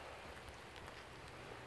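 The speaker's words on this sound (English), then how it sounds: "Doesn't rain that much here in Saskatoon, you know, it's a dry climate. But it's coming down." Rain coming down outdoors in Saskatoon, a steady, soft, even patter with scattered faint drop hits, fairly distant and continuous with no voices.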